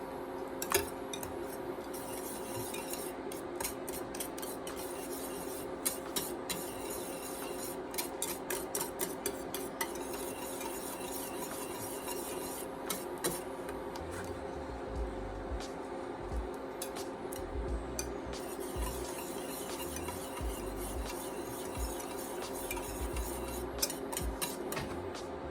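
Swiss and cheddar cheese being stirred into a sauce in a pan, with quiet repeated clinks and scrapes of a utensil against the pot over a steady low kitchen hum, no talking.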